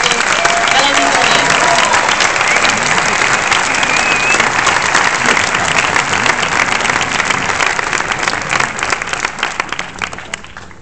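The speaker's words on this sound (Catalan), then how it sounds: "li donem un calorós aplaudiment per fer-lo arribar fins a dalt de l'auditori" An auditorium audience at a film festival gives loud, sustained applause for a short-film presentation, a thick continuous roar of clapping that thins slightly toward the end, with faint voices mixed in.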